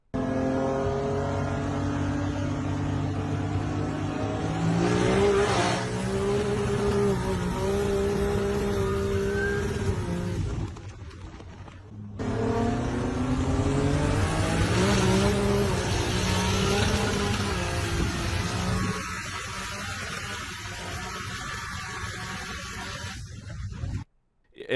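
A BMW sleeper and a boosted 5.0 Mustang race with engines revving hard, climbing loud roars through successive gear pulls, a brief lull near the middle, then another long pull that fades toward the end.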